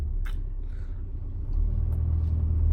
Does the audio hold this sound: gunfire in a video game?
no